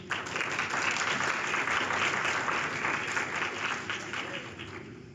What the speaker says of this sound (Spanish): a quien le damos un fuerte aplauso, por favor